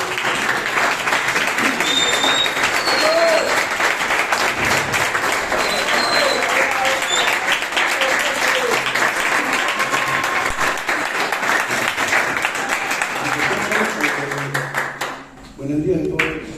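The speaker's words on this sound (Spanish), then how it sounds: "a quien le recibimos con fuertes aplausos" Audience applause at a school debate for fourth-year secondary students at Colegio Cristo Amigo, a dense, sustained burst of many hands clapping at once that fades out near the end.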